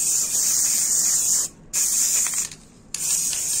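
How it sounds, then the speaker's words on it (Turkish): A spray paint can hisses in long, loud bursts while white stones are coated during a fireplace makeover, with two short pauses between the sprays and no talk. "Sprey boya ile."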